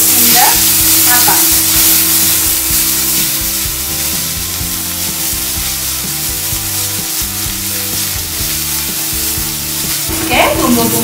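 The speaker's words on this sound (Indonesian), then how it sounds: "Sekarang kita tumis dulu terlebih dahulu bumbu-bumbunya" Spice paste for beef nasi kebuli is stir-fried in a pan, a loud continuous sizzle with a low steady hum and occasional spatula scrapes, close and alone without voices.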